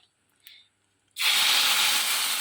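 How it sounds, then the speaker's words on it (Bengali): Dried red chillies, bay leaves and whole cumin hit hot oil for a dal tempering, breaking into a sudden loud, steady sizzle after a near-silent start with a faint tap. "এদিকে দেখো ফোড়ন দেবো বলে গ্যাসে বসিয়ে দিয়েছি, শুকনো লঙ্কা, তেজপাতা"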